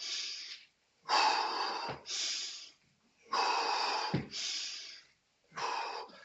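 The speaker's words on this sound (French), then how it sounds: "J'exagère un peu la respiration. Comme ça, au moins, vous m'entendez." Loud, exaggerated breaths close to the mic during a muscle-strengthening workout, in and out in a slow repeating rhythm, with short pauses between each pair.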